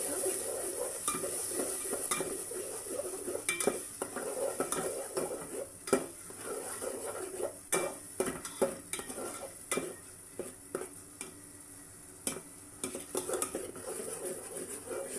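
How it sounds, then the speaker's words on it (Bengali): Spices for a beef curry with chana dal sizzle in oil in a pan as a spoon stirs them, irregular metallic clinks and scrapes over a soft frying hiss, no one talking. "এর মধ্যে আমার মশলাটা ফুটতে শুরু করেছে, আমি নেড়ে ছেড়ে দিচ্ছি।"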